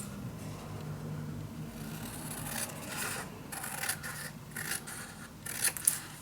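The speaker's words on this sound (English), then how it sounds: "I'm gonna use my scissor now because it's easier to cut out." Scissors cutting a paper piece for a mini album held in a storage box, giving quiet, close rasping snips in short bursts, with a few louder cuts near the end and no talking.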